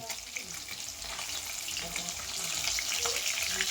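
Okra fries in a very hot wok, producing a constant, fairly soft broadband sizzle that swells slightly toward the end, with faint kitchen clatter beneath.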